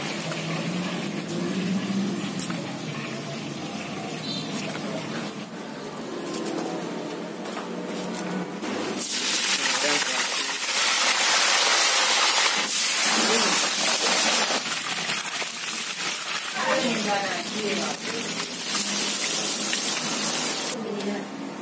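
Salted fish and vegetables frying in oil at a West Sumatran salted-fish eatery, a loud, hissing sizzle swelling up partway through and continuing steadily over busy background clatter.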